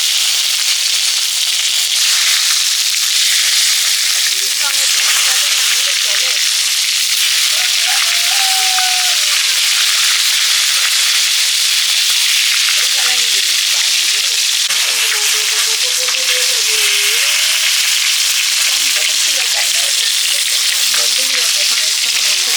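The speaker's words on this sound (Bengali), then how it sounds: "খিচুড়ির সবজি ভাজা হয়ে গেছে," Vegetables for khichuri fry steadily in a pan, a loud, continuous sizzle and crackle that fills the whole stretch, with faint bits of speech and clatter now and then.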